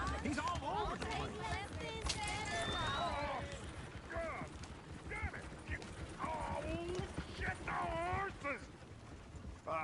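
Horse hooves clip-clopping in the Red Dead Redemption 2 game world, an irregular trotting patter running steadily under frequent overlapping talk, with a skittish, kicking horse and a coach nearby.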